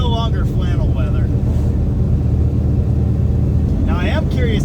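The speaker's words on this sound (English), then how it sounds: "So I thought I'd test the car one more time, see what we got now." A classic Mopar drag racer is driven on a warm day, its loud, steady engine droning close by throughout, with a voice talking over it at the start and end.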